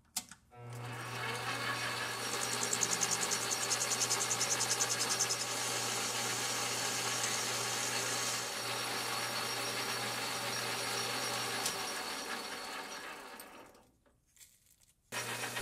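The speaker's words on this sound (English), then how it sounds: "Into the lathe now, and I'll start by facing off the end," A metal lathe faces off the end of a workpiece for a tennis ball pressurizer, giving a steady close motor hum with a cutting hiss that runs for about eleven seconds before winding down and stopping.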